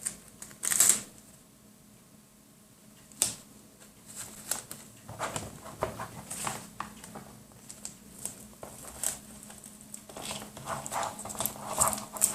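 Adhesive tape is handled at close range: sporadic crinkles, short crackles and brief rustling bursts with quiet pauses between them.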